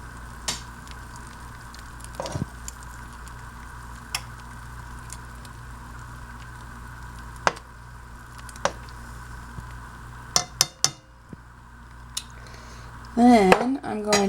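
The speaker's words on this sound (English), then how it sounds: "We'll give that a good stir." Flour, evaporated milk and butter are stirred into a pot of potato soup over medium-low heat, with a low simmering hiss throughout, scattered utensil clicks and a brief scraping clatter near the end.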